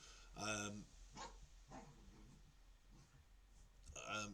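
A dog barks in a couple of short, loud bursts near the start and again at the end, with quieter sounds in between, heard in a room where a PlayStation VR2 game is being played.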